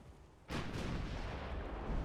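A single heavy naval gun salvo booms out in the battleship game Ultimate Admiral Dreadnoughts, an abrupt loud blast after a quiet moment that rolls on into a long rumbling tail.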